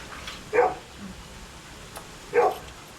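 Dogs at a beach resort in Dinahican, Infanta, Quezon give two short barks about two seconds apart, somewhat distant and modest in level over a low background hum.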